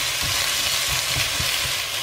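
Zucchini and onion frying in a hot pan, a loud continuous hiss of sizzling oil with faint low bumps from the pan underneath and no voices.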